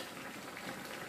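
A pot of beans simmers in its own liquid with no added water, giving a quiet, steady bubbling hiss that runs close and alone through a very short moment.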